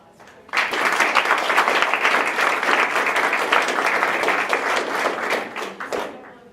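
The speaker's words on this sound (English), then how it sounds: "let's give one more round of applause" Audience applause after an afternoon talk at a skepticism day event, a steady, full round of clapping from a room of listeners lasting about six seconds before dying away.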